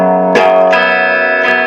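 Slow, heavily distorted electric guitar strums, played in slow motion, three deliberate strokes ringing into each other with a thick, sustained buzzing tone.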